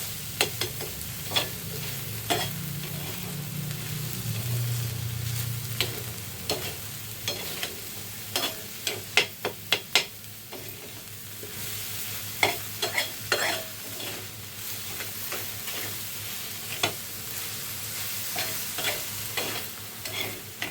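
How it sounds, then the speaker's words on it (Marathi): Mawa and sugar cook in a pan for a sweet dish, with a low steady sizzle under repeated sharp scraping strokes of a spatula, irregular stirring clicks continuing for the whole stretch. "मस्त हे आपण असं शिजवून घेऊया, मावा आणि साखर"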